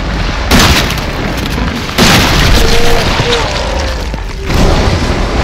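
Gunfire in the video game Resident Evil 7, heavy booming blasts at roughly two-second intervals, loud and close, each followed by a lingering rumbling tail, with faint talk in the background.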